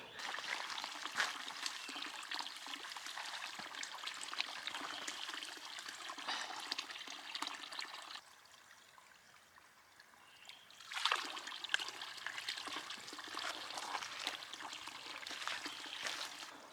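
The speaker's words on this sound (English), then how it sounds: "this spring here is awesome" Spring water trickles and splashes steadily at John Spring Shelter in Jefferson National Forest, Virginia. The flow is close and continuous, dips quieter for a few seconds midway, then picks back up.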